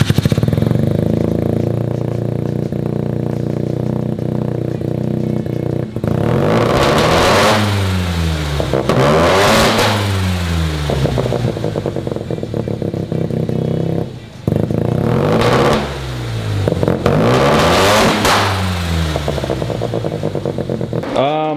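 A car fitted with a 650cc Mazda single-rotor engine and a blow-off valve revs repeatedly, with rising and falling sweeps between steadier idle stretches, loud and close throughout.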